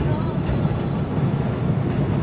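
A train passes nearby along the tracks, producing a loud, continuous rumbling roar that stays steady throughout with no pauses.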